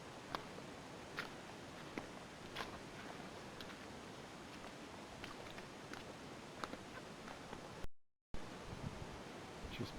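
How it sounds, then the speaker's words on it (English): Steady rushing water runs beside a waterlogged bush walking track near Bridal Veil Falls, a constant broadband hiss with scattered faint ticks and a brief dropout near the end. "I can hear water down here too"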